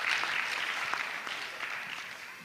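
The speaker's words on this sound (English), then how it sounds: "so clap hands for yourselves." Audience at a medical graduates' induction ceremony in Ghana claps steadily, a dense, even patter of many hands holding at moderate level and easing slightly toward the end, with no voices over it.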